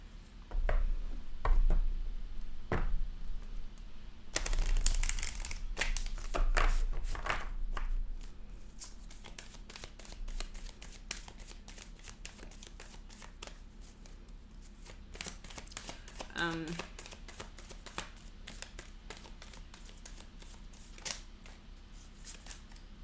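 Oracle cards being shuffled by hand in a quiet room, with a burst of crisp riffling and flicks in the first seconds that thins to sparse, faint card rustles.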